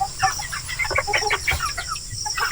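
Native chickens cluck repeatedly on a farm, a busy close chorus of short calls overlapping in uneven bursts with no talking.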